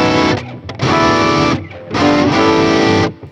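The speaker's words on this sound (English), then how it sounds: "It's the sound of 2 instruments playing kind of in 2 different keys at the same time." Electric guitar layered with a synth piano patch through a Boss SY-1000 guitar-to-MIDI unit in an alternate tuning, two loud sustained chords with a short gap between, heard alone.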